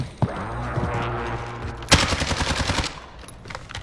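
Rapid automatic gunfire in the Warzone video game, a single shot followed after a pause by a fast burst of repeated rounds, loud and close.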